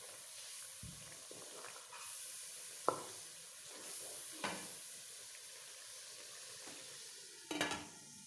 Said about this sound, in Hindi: अभी इसको अच्छी तरह भून लेते हैं।